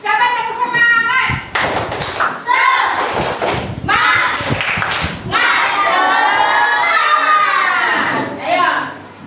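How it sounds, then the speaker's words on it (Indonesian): Children in a classroom clap a quick rhythmic enthusiasm clap, loud and close, with their voices chanting and calling along through the claps. "Coba tepuk semangat."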